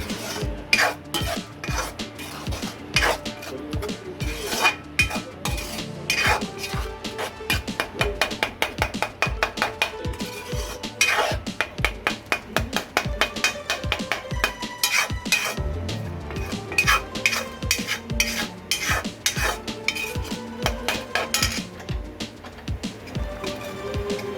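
Carrot halwa with sugar being mixed in a pan after the milk has reduced, a spoon repeatedly scraping and clattering against the metal in a busy rhythmic stream, close up and without talk.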